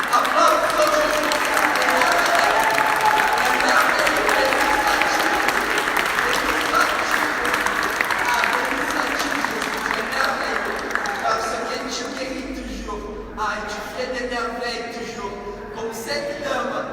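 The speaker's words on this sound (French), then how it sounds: "Applaudissons Jésus." A church congregation applauds in sustained, dense clapping that fills the hall, with voices and a speaker audible through it as it gradually thins toward the end.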